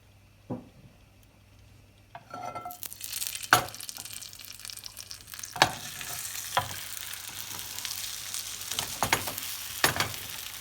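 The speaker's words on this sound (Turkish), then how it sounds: "Burada iyice bir çevire çevire kızartacağım." Leek pieces sizzle and crackle in hot oil, with a few sharp clatters and stirring scrapes breaking through the steady frying noise.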